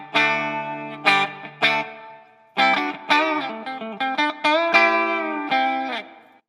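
An electric guitar played through a clean tone with no distortion pedal engaged, a series of ringing plucked notes and chords with short gaps between them, upfront and alone.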